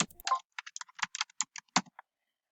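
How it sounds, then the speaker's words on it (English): Irregular keystrokes on a computer keyboard, a quick cluster of clicky taps close up over about two seconds with short gaps between them, no voices. "If I were to type in electrician"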